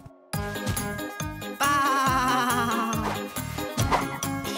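Cartoon sheep bleat loudly and repeatedly in a shaky, wavering chorus, with a faint jingle mixed in and no talk over it.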